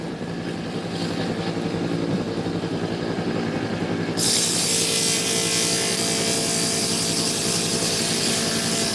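Sandpaper rubbing by hand over a workpiece to round off an edge, a steady dense scratchy rasp throughout that grows louder and brighter partway through, continuous and close with no talk.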